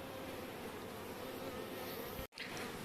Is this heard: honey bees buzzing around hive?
yes